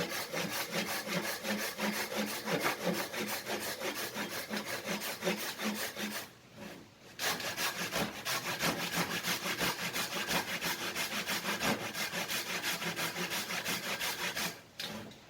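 A pull saw cuts through wood in steady, rhythmic rasping strokes, loud and close, continuing for a long stretch. It stops briefly twice and then resumes, with no talking.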